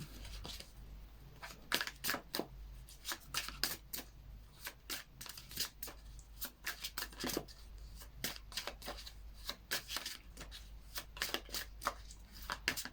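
Tarot cards are shuffled by hand in a rapid run of crisp riffling and slapping bursts, close and fairly quiet, continuing irregularly throughout without any speech.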